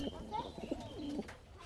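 A Laldum pigeon breeding pair and their chicks coo in a short burst of low, wavering calls nearby, with a voice briefly mixed in.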